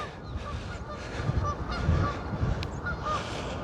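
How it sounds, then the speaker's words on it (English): Geese honk repeatedly in the distance over a steady outdoor rumble, their calls overlapping in loose, excited bursts, in Runcorn. "Some geese going off their heads"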